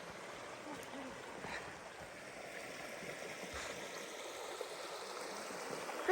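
A small creek on a rainy wilderness hiking trail in Killarney Provincial Park gives off a soft, steady rushing of flowing water, faint and continuous in the background.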